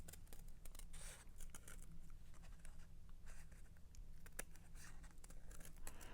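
Scissors snip through paper while cutting out a Halloween ghost tag for a kids' craft, a quiet run of close, crisp cuts and soft rustling over low background hum, with no talking.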